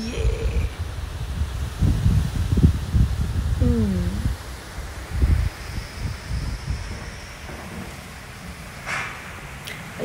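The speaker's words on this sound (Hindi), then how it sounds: "ये बहुत तेज हवा चल रही है," Strong wind blowing through a tree outside a hotel in Azerbaijan, a continuous rushing rustle of leaves with gusts that are louder early on and ease off toward the end.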